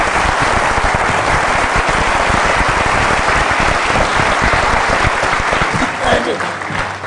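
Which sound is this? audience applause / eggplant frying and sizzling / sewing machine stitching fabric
audience applause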